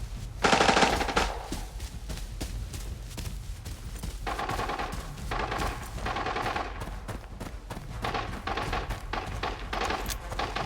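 Bursts of rapid automatic gunfire in Arena Breakout with sharp repeated shots, loud and close, broken by short pauses, with faint background game noise.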